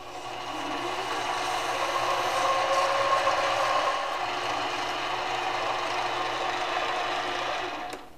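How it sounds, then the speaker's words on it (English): Sandpaper, from 220 up to 1200 grit, rubbed across the inside of a wooden cube box, a steady close-up rasping hiss that holds evenly for several seconds before easing off. "will sand the inside. I usually start with about 220 grit and go all the way to 1200 grit."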